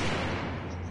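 A flashbang grenade detonates in a multiplayer shooter game, a loud, dense blast of broadband noise with a deep low rumble that fills the whole second without a break.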